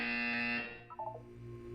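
A loud electronic buzzer from the video game Portal 2, a steady harsh tone held for about half a second, then cut off, followed by a short burst of quieter synthetic chirps.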